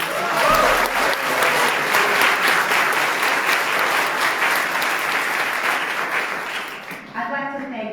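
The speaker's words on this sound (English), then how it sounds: "Let's give him another round of applause." Courtroom audience at a clerk of courts investiture ceremony breaks into loud, sustained applause that tapers off near the end, when a speaker's voice briefly comes in.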